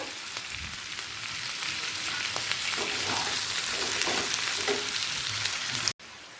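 Large onion pieces and chillies sizzle in a hot pan for a chilli chicken dish: a loud, steady crackling fry with a few stirring scrapes, no voices.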